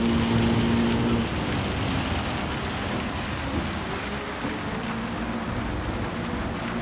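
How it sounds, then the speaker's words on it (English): Hard rain in the Gran Turismo 7 racing game, a dense steady hiss of falling water with a low rumble beneath, continuous and fairly loud throughout, no voices. "It starts to rain quite hard"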